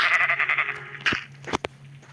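Sheep bleating in Minecraft, a single wavering, close bleat followed by short thuds and clicks of game action.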